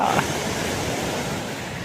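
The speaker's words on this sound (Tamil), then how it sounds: "எப்படி இருக்குது பாருங்கள் அருவி, ஜம்முன்னு." A waterfall on the Agasthiyamalai trek to Agasthyakoodam gives a steady, broad roar of rushing water. The sound stays even throughout, with a brief voice-like trace at the very start.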